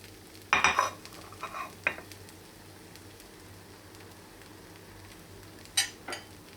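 A crepe topped with kashar cheese cooks in a pan, with a soft continuous sizzle broken by a few sharp scraping and stirring bursts from a utensil, and no voices.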